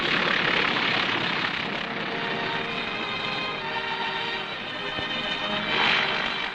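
A WWII propeller plane comes in to land on a newly built island airstrip, its engine drone steady and loud throughout, swelling slightly toward the end with no voices.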